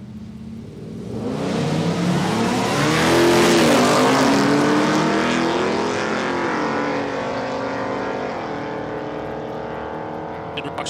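The big Barracuda drag racing car roars off the line at Palmyra Raceway in Australia, its engine note climbing loudly through the run before fading slightly as it pulls away.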